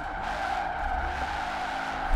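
A Hoonitruck in Forza Horizon 4 skids with a steady, loud tire squeal over engine roar, sustained throughout with a short burst near the end.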